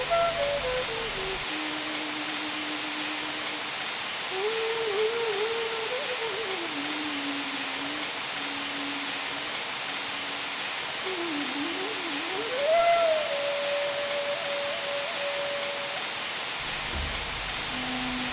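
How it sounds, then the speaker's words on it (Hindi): Damau Dhara falls roars as a continuous hiss of falling water, with a slow melodic tone gliding over it throughout. "ऊंचाई से गिरते इस पानी का शोर इन हसीन वादियों के बीच 12 महीने सुनाई पड़ता है"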